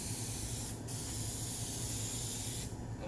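Spray adhesive hissing from an aerosol can with an adjustable twist cap while gluing a laminate wall panel, a loud steady spray broken by two brief pauses, heard close and alone.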